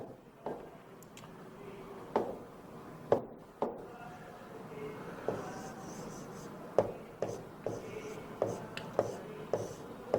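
Writing on a board during a reasoning lesson about the water images of digits: a steady run of soft scratches and sharp taps, close and moderately loud, with brief pauses between strokes.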